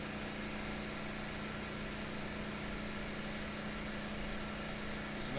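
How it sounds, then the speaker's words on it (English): Synchronous motor running at unity power factor, a steady, even electrical hum with a continuous whine and no change in pitch, heard alone at moderate level. "current it takes to keep this synchronous motor running at unity."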